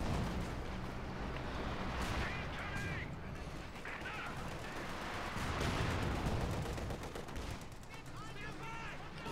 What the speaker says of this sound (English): LMGs firing